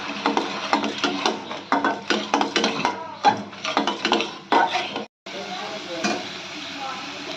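Spice masala being stirred in a pan as Kashmiri chilli powder is mixed in, with repeated scraping and clattering strokes of a utensil against the pan under a soft sizzle, close and moderately loud, with a brief pause near the end.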